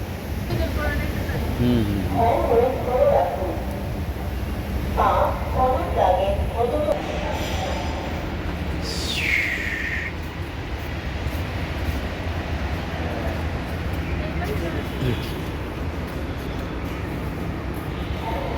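A metro train rumbles steadily past with a continuous roar and a brief rising squeal partway through, while people talk faintly underneath.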